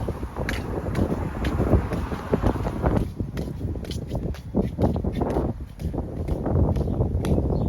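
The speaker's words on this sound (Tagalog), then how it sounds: "Pakinggan nyo na lang sounds guys ng hangin. The wind." Steady outdoor wind buffeting the microphone on a walk in Melbourne, a constant low rumble with scattered gusts and faint clicks and steps throughout.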